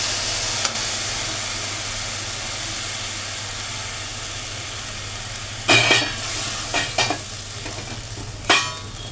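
Boiled pigeon pea (arhar) dal pours into a hot pan for a sour dal, a quiet background hiss interrupted by a couple of sudden, loud sizzling bursts near the end, close by.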